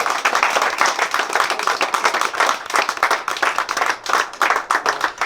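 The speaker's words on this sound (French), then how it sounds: "Je vous invite à les applaudir chaleureusement." Warm, close audience applause with distinct individual claps in a lively, slightly uneven rhythm, loud and continuous, no voices over it.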